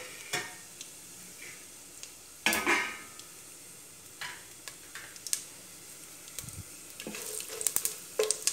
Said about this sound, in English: Once it's hot, we'll add in the whole spices